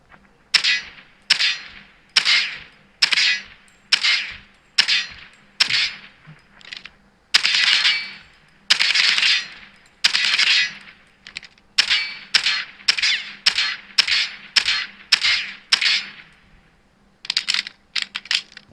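Video game gunfire comes through Lenovo Thinkplus LP3 Pro Bluetooth earbuds as repeated short rattling bursts and single cracks, bright and clipped, with brief gaps between volleys.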